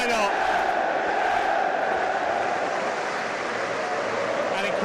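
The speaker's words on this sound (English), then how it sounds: "the crowd stands in unison to applaud" A football stadium crowd stands and applauds Jürgen Klopp on his final day, a steady, massive roar of clapping and cheering that fills the space, with a voice speaking over it.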